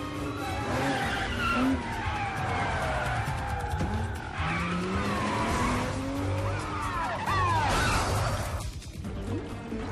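A car on the move, engine roar mixed with squealing tyres and skidding, loud and continuous with shifting pitch sweeps throughout.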